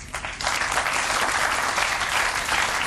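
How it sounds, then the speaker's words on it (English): A crowd at a World Pool Masters final breaks into applause after a fluked shot, swelling quickly into a dense, sustained clapping that stays loud and even throughout, with no talk over it. "crowd applauding"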